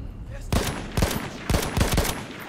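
Gunfire in the first-person shooter Battlefield 1 during a multiplayer Rush match: loud, sharp shots cracking in quick bursts roughly every half second, with dense battlefield noise underneath and no talk.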